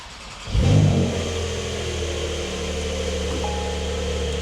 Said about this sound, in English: I'm going to fire that 3-litre flat six into life.